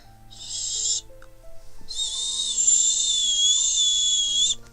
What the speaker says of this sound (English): That's the best whistle I can do.